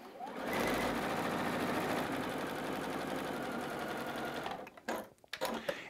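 Sewing machine chain piecing quilt fabric for a block-of-the-month quilt, stitching in a steady, loud mechanical whir that runs nearly unbroken for several seconds before slowing into short stop-start bursts at the end.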